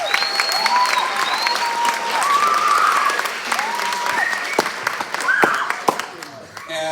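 A pageant crowd applauds steadily, with sustained clapping mixed with whistles and voices rising over it.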